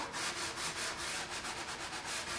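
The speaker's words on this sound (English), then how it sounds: "I'm just coming in here and sanding this Dixie mud back off that I placed on here" Sandpaper is worked by hand over Dixie mud on a wooden vintage vanity being chalk painted, making quick, even back-and-forth rasping strokes, close and steady, with no talking.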